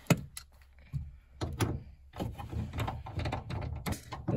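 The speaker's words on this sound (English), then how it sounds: "Slide the door in." A power sliding door on a 2005-10 Honda Odyssey is pushed onto its rail at close range, giving a string of knocks, scrapes and rattling clunks with short gaps between them.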